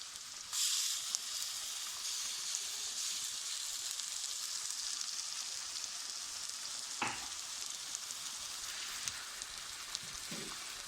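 Continuous crackling sizzle of ginger and garlic frying in a pan, with an occasional utensil tap or scrape over the hiss.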